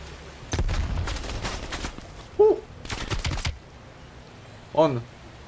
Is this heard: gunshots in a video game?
yes